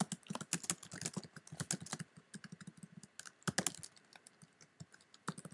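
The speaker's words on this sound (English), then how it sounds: "Oh my god, let's type." Quiet, rapid typing on a computer keyboard, close-up key clicks in uneven bursts with short pauses, no voices.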